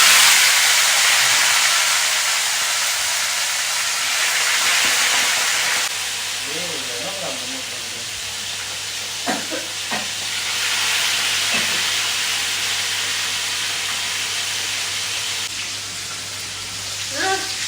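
Fish pieces, softened beforehand, frying in a pan generously filled with hot oil in a home kitchen; a steady, strong sizzling hiss runs throughout, with a few faint voices and clinks in the background.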